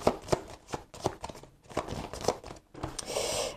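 Oracle cards being shuffled for a random draw: quick riffling and flicking bursts in an irregular rhythm, close and fairly quiet, no talk.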